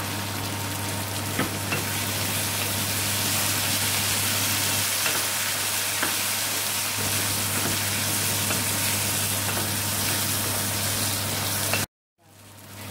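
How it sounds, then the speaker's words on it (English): Capsicum sizzles and fries in a pan while chana masala is being cooked. A steady, close crackle is joined by occasional stirring scrapes, then it cuts off abruptly near the end. "we're going to put the capsicum in now"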